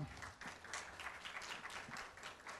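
At the close of the Cheonwonsa temple's 60th anniversary ceremony, the audience claps in a moderately quiet, steady patter of many hands, with faint talk mixed underneath.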